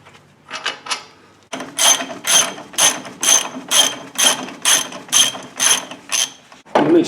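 A ratchet clicks steadily in repeated bursts, about ten even strokes, while loosening caliper bolts on a Dana 60 steering knuckle during a ball joint job; close and loud, with a few lighter clicks first.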